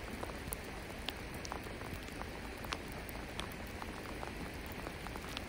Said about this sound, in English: I'm going to go because the rain's pouring